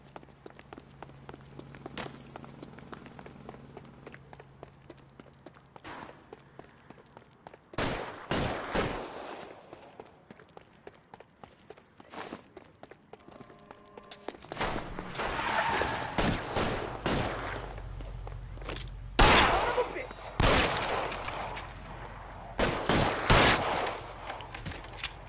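Gunfire in the video game L.A. Noire, scattered sharp shots and quick bursts at moderate distance, sparse at first then clustering into heavier volleys in the second half, with footsteps in between.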